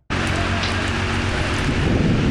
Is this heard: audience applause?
no